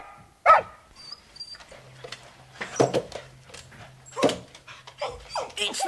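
Dog barking excitedly after finding a shoe in a dramatised audiobook: a few sharp barks and yips with whimpering, mixed under people talking.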